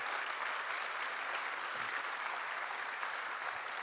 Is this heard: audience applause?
yes